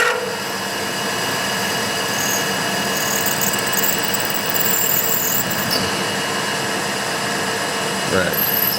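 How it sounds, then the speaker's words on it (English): A lathe drilling a body clearance hole halfway into a workpiece while making a precision edgefinder, giving a continuous loud whine and hum of the spindle and cutting that holds steady throughout, with no clear speech. "I'm going to drill halfway with this"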